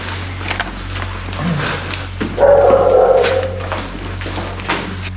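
Dogs in an abandoned hospital in Pripyat, a few short yips and whimpering cries, fairly close and echoing in an empty interior, over a low steady hum.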